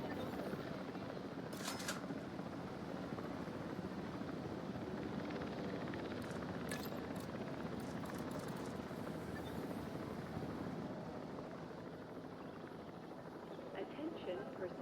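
Helicopter returning to base in the game Jurassic World Evolution 3, a steady broadband rotor and engine rumble holding at constant loudness for about fifteen seconds, with an announcer's voice over it.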